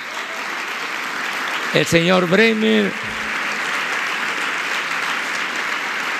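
An audience applauds steadily at a public event honoring athletes, a broad, sustained wash of clapping with a voice speaking briefly over it partway through.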